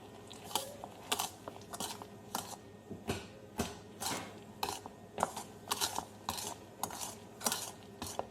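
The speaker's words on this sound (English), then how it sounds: "All right, now we whisk." A whisk beats a mixture in a bowl with quick, regular metallic clinks and scrapes, about twice a second, close and fairly faint, with no talking.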